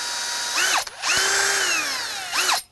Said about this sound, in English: use the drill bit to basically just get through the metal